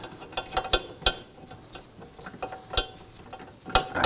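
A socket ratchet with an extension turns a caliper bracket bolt on a 2005-2009 Subaru Legacy, giving a close series of quick, uneven clicks in short bursts with brief pauses between them.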